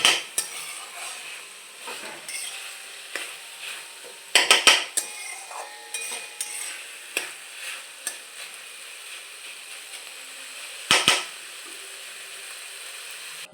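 Basanti pulao cooking in a pot, with metal spoons scraping and clinking against the pot over a soft background sizzle, several sharp knocks standing out, no talk.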